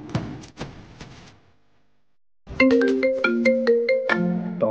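A mobile phone ringtone plays a short melodic tune near and loud, after a brief burst of tones cut off into silence, as if a call is being rejected before ringing again.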